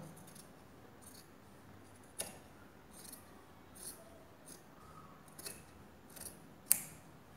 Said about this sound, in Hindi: जो ऊपर कपड़ा एक्स्ट्रा है उसको हम काट देते हैं